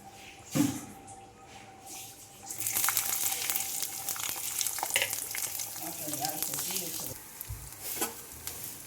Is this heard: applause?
no